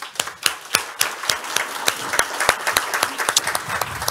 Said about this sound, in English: So give her a warm applause.